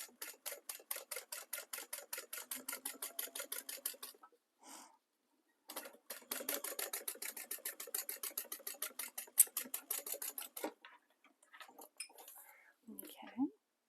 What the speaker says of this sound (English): I've got the seam going up so that we're stitching on the vinyl